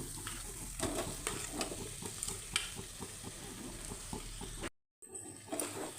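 Potato bonda stuffing is stirred in a pan over a low flame, giving soft, steady scraping and a gentle sizzle, broken by a brief silent gap near the end.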